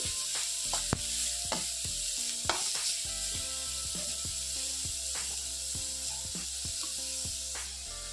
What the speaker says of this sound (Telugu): క్యాబేజీని ఫ్రై చేసుకుంటున్నాను క్యాబేజీని ఫ్రై చేసుకోవాలి